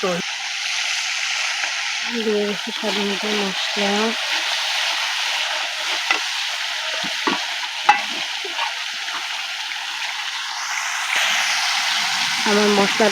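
Spice paste fries in oil in a pan while being stirred, a soft hiss with intermittent scraping and clinks of a spoon, a voice briefly talking near the start.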